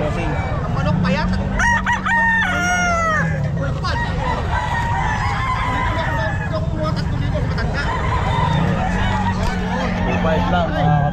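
Roosters crow repeatedly at a busy outdoor pet market in Bocaue, several drawn-out calls over a constant hubbub of crowd noise and nearby voices.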